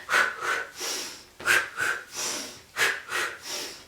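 Heavy, deliberate breaths in a repeating pattern, each with several sharp pulls of air close to the microphone, rhythmic and loud.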